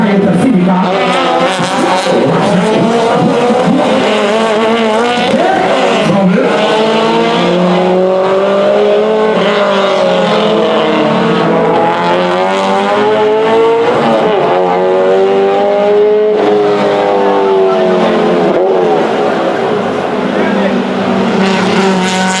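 A Toyota race car pulls away at the King of Shores 2022 race meet, its engine roaring loud and close with rising and falling revs while voices talk over it throughout.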